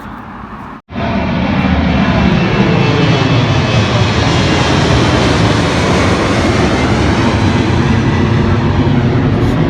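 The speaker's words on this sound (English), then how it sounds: "Film that few seconds for anyone interested in plane taking off." A fixed-wing airplane takes off near the River Thames at Woolwich, its engines roaring loud and continuous at close range for about nine seconds after a brief dip.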